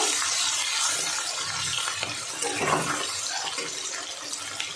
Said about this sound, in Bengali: এবার আমি এই পেঁয়াজ কুচিটা দিয়ে দেবো এর মধ্যে। একটু নেড়ে নেব।